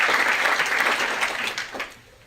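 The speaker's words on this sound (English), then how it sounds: "That's when you clap." Audience applause at the opening session of an annual early arrival program, a dense wash of clapping that holds steady and then thins out toward the end.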